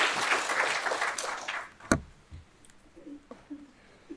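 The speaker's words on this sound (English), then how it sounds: "So let's give them all a round of applause." Applause from an audience at a live CPA information event on a college campus, a broad clapping wash for about a second and a half that fades quickly, followed by a sharp knock and scattered faint sounds in a quieter room.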